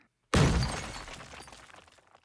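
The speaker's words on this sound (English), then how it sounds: "And we have explosions." A single explosion sound effect from the Krotos Studio Genesis sound pack, with a sudden loud blast followed by a crackling, shattering debris tail that fades out over about two seconds.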